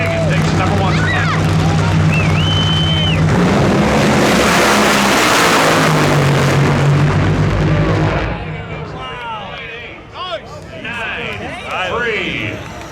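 The Johnson Horsepower Garage Dodge nitro drag racer makes a qualifying run at the NHRA Winternationals with a thunderous, crackling roar that fills the first eight seconds and then fades into the distance. An announcer talks over it and the crowd noise that follows.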